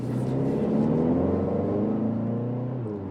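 Fast sedan engine pulling hard to overtake on the road, a steady smooth rising whir and drone heard from inside the cabin, continuous and moderately loud with no talk.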